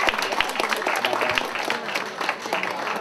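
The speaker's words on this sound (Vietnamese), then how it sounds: "một tràng pháo tay thật lớn" Audience applause at a Vietnamese American medical research foundation annual meeting after a flute and poetry performance, a full sustained round of many hands clapping in a hall, steady and fairly loud throughout.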